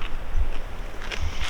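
Wind in the Simpson Desert, gusty buffeting and low rumbling against the microphone with faint rustling, fairly loud and constant with no speech.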